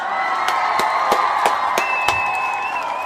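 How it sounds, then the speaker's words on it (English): Crowd cheering and whooping with applause, a continuous roar of voices and whistles with a few sharp, evenly spaced loud claps or beats cutting through. "I want to give all the Kuumba babies a round of applause"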